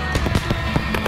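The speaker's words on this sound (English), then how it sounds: "Never turn your back on fireworks." Fireworks launch from mortar racks in a rapid series of sharp bangs and thumps, loud and close, several shots packed into about a second.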